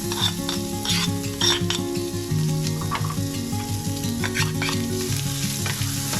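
Garlic fries in the leftover oil from frying chicken, a loud, steady sizzle close by with stirring and occasional clinks of a utensil against the pan, no voices.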